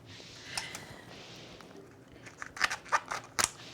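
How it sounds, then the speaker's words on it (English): Kitchen scissors snip through the thin membrane of a cooked lobster tail, first with a soft rustle and then a quick run of sharp, crisp clicks and crunches close up, with no talking. "put the scissors under the membrane and cut down the center of the membrane all the way to the bottom"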